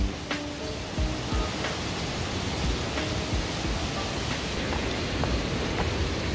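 Clear mountain water flows in Makdong Valley, Pyeongchang, Gangwon, fed from Baekseok Mountain, making a steady broadband rush close by with no voices.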